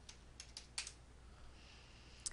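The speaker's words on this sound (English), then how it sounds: "So I'm going to type in Firebug." Light keystrokes on a computer keyboard, a handful of soft, separate clicks in an uneven rhythm with short pauses, faint and close with no voice.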